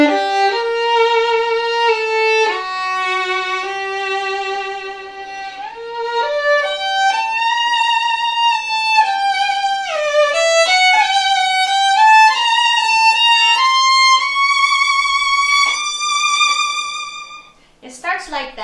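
A solo violin plays the opening of Bruch's Violin Concerto with broad, singing sustained notes and slides climbing steadily higher, close and full-toned, with no speech, ending in a brief bowed flourish.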